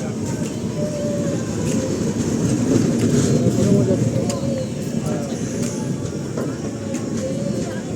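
A train rumbles steadily through a station, a continuous low mechanical roar with faint squeals, while people talk over it.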